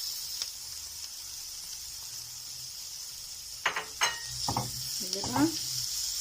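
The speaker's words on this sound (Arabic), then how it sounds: "كده البصله بتاعتنا دبلت، هننزل عليها بالمفروم." Minced meat sizzles and fries with softened onions in a pan, a steady quiet hiss with a few louder scraping stirs and clatters toward the end.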